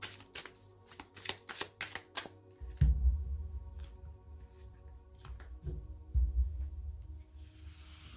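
Oracle cards shuffled by hand in a quick burst of crisp riffling flicks for the first couple of seconds, then a few softer handling taps and slides over a low steady hum, with no talk.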